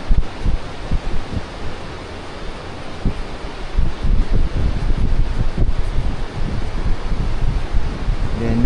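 Strong wind gusts across a swaying bridge on a weekend motorcycle ride to Maolin, a steady loud broadband roar with buffeting surges throughout and no talk.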